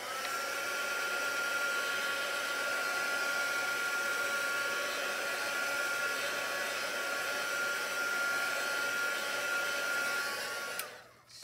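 A hair dryer blows on a craft embellishment with a constant, loud whooshing drone that runs almost the whole time before it switches off abruptly near the end.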